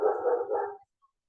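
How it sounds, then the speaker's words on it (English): A dog on a farm gives a quick burst of two or three close, loud barks that stop abruptly, with no talking. "Apologies if you can hear my dog"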